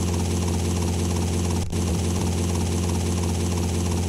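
A continuous, loud helicopter engine drone with rotor thrum, briefly dipping once midway, no voices; a helicopter shaken by rain in the video game GTA Vice City Stories.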